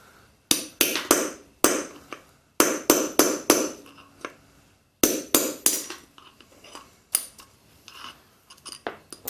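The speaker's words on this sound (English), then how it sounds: "I'm going to take my hammer and just give it a good whack until it pops out." Metal hammer blows on a punch ring out in quick bursts of three to five sharp strikes, pausing between groups, loud and close, with clanking between, driving out a wheel bearing on an Ingersoll 4118 garden tractor.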